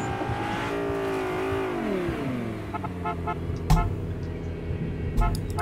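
Car horn honking in Fortnite, with engine and vehicle noise running throughout and two short, sharp honks breaking through near the end.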